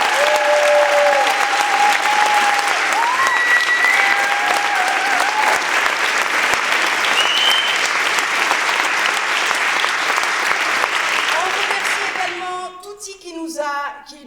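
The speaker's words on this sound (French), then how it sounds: "Je vous prie un énorme applaudissement pour Gillian Megan." A theatre audience breaks into long, loud applause lasting over ten seconds with a few whistles rising above the dense clapping, which then dies away as a voice begins speaking.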